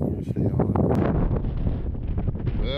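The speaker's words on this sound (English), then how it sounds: "it is just windy as hell" Strong wind sweeps across an open, long-farmed field, buffeting the microphone in loud, continuous rumbling gusts, with a brief whistling tone near the end.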